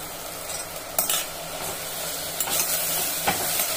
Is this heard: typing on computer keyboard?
no